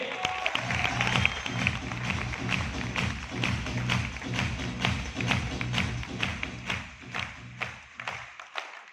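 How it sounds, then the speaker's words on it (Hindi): An audience at a SafeShop recognition event claps for a team in a steady, rhythmic beat over a low hum. The clapping holds a fairly even pulse before thinning out and stopping near the end. "मैं चाहूंगा अब तक की सबसे जोरदार वाली ताली मेरी टीम के लिए"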